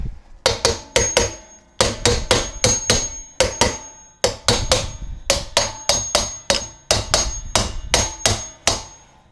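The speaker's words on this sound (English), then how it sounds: "and just hammer it in." A hammer drives an old bearing into the rear axle of a third-generation Toyota 4Runner, sharp ringing metal strikes in quick bursts of three to five blows separated by short pauses, loud and close.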